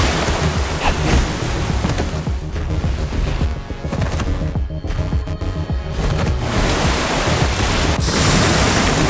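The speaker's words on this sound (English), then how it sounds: "Waterfalls!" Loud, continuous rushing of a waterfall in the Minecraft Story Mode video game, a dense broadband roar that dips briefly in the middle before swelling back, with no talking.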